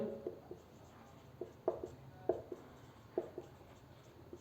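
Marker or chalk taps and strokes on a classroom board, heard as sparse, close, irregular scratches and knocks over a quiet room hum.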